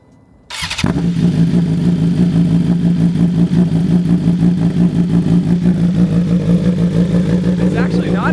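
A 2024 BMW M1000R motorcycle engine fires up after a cold start and settles into a loud, steady idle with an even throbbing pulse, close by, with a voice briefly audible.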